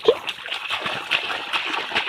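Water splashes and sloshes at a drinking-water tap near a village temple, with irregular gurgling spatters over about two seconds, fairly close and moderately quiet.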